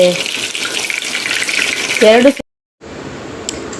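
Fish pieces hit hot oil on a tawa for a hotel-style fish fry, giving a loud, close, continuous sizzle with a sharp spatter, then a brief dead gap before a quieter steady frying hiss returns.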